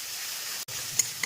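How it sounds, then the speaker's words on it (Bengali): Onion paste fries in hot oil with a soft, steady sizzle, broken by a brief gap and a couple of light clinks near the end. "পেঁয়াজ বাটাটা দিয়ে খুব ভালো করে কষিয়ে নেবো পেঁয়াজটাকে আগে"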